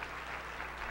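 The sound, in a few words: audience clapping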